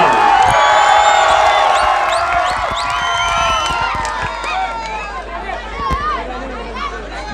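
Large outdoor crowd at a parliamentary election rally at Khyaban Nishat Chowk cheering and chattering loudly with whoops and scattered shouts, a dense roar that holds strong and eases slightly toward the end.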